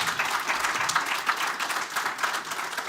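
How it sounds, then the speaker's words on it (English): Conference audience at a health tourism event applauding steadily, a dense wash of many hands clapping at even volume for a few seconds, with no voices over it. "One big round of applause for our speakers today."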